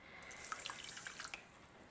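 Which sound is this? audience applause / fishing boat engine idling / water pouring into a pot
water pouring into a pot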